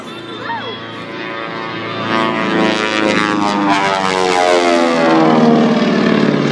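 At an air show, a propeller airplane pulls up right in front of the crowd. Its engine swells loud and near with a rising, sweeping roar, and a commentator's voice is faintly mixed in.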